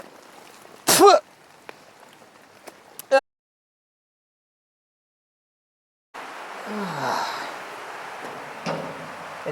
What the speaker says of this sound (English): It's raining from last night,